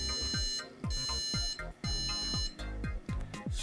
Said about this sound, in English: And now we have beeps,